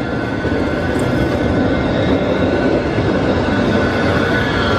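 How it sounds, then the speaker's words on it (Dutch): A tourist train arrives in Sóller, Mallorca, its steady loud rumble of rolling carriages and wheels filling the scene throughout, with faint rail clatter and a brief squeal, no talking. "Kijk, en daar komt het treintje aan."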